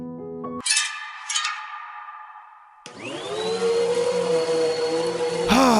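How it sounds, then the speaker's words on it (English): A vacuum cleaner switches on late at night after a few thin clanks and a fading hum, then settles into a loud, steady whining drone that swells slightly toward the end. "whenever you hear a vacuum really late at night"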